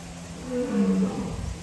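A single deep lion roar rises and trails off into grunting, moderately loud with no talking over it.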